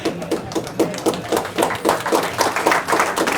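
Audience of physicians clapping, a moderate rhythmic patter of hands at fairly close range, steady for a few seconds without speech over it.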